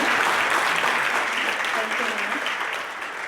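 A meeting audience at the Chicago Mobility Collaborative applauds in a steady, dense wash of handclaps that stays loud and even throughout, easing slightly near the end, with murmured voices beneath.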